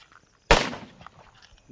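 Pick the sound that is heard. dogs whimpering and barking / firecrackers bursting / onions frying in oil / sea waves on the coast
firecrackers bursting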